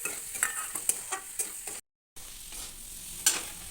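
Pointed gourd frying and being stirred in spice masala in a pan, rhythmic scraping stirs over a steady sizzle, with a brief dead silence midway before the sizzling resumes.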